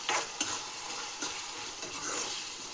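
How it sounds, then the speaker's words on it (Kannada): Capsicum and other vegetables sizzle and fry in a pan, with a steady hiss and a few scraping stirs, close and moderately loud, without talk. "ಸ್ವಲ್ಪ ಬಿಡಿ, ಚೆನ್ನಾಗಿ ಫ್ರೈ ಆಗೋವರೆಗೂ"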